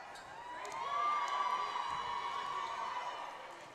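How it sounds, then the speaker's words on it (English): A high school boys basketball crowd cheers and whoops on its feet in a gym, a sustained swell of shouting voices, distant and fairly faint, peaking early and then holding steady. "The whole crowd standing up for the Tigers"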